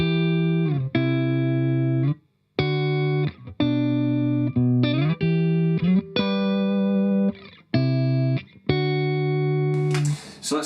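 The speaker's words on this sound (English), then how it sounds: "playing the Fender Telecaster into a Fender Deluxe Reverb" A Fender Telecaster played clean through a Fender Deluxe Reverb amp rings out a sequence of sustained chords, each struck and held, with brief silent gaps between them and no voices.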